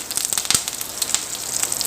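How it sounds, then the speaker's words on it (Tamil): Mustard seeds splutter in hot oil for a tempering, with quick bright pops and crackles over a steady close sizzle. "கொஞ்சமாக கடுகு, கடுகு வெடிச்சுக்கிட்டு இருக்குங்க"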